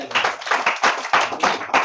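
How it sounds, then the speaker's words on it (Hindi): Students in a classroom clap together, a quick run of uneven, close-up handclaps in several bursts with no talking over them. "ताली मार दीजिए इसके लिए"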